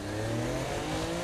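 A sports car revs and accelerates in the Saints Row video game, a loud steady engine drone with layered tones running alone and unbroken.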